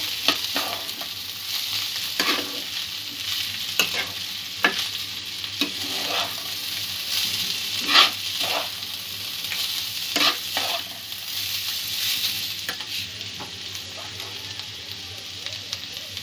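Carrot pulao ingredients being stirred and mixed in a pan, with a steady soft sizzle of frying and repeated scraping strokes of a spoon every second or so, close up and moderately loud, no talking.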